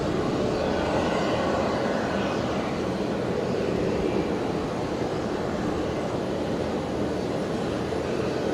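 A Boeing 717 airliner arrives at Brisbane Airport with a broad, steady jet roar that holds loud and even throughout, with no voices.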